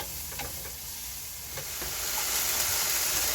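Potatoes browning in olive oil in a pan, a soft steady sizzle and faint hiss that swells slightly toward the end, with a few small pops and no talk.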